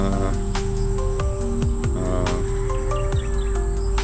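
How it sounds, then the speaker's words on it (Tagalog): Crickets, chickens and birds in an outdoor rural setting, with a steady insect drone and sharp repeated chirps and calls scattered throughout, fairly close and continuous, with no talking. "mga kuliglig, mga manok, mga ibon, mga naririnig mo dito"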